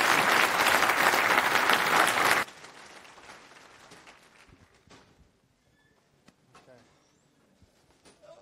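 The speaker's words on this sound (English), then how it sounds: "Give a warm applause" An audience in a FOSDEM conference room gives a loud, dense round of applause that cuts off abruptly after about two seconds, leaving quiet room rustling, shuffling and scattered faint knocks.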